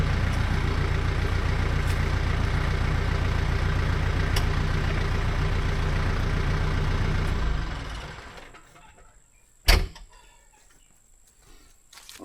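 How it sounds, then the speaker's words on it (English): A tractor engine runs loud and steady for about eight seconds before shutting off and fading out, followed by a sharp knock and quiet outdoor background. "let me go turn the tractor off really quick"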